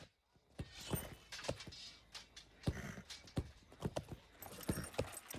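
Hoofbeats of a war steed galloping through a riding course in the Lord of the Rings Online game, a fast, uneven run of sharp clip-clop strikes close up, with no other sound behind them.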